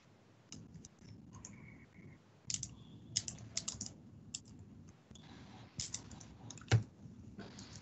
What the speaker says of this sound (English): procedural officer is typing the minority view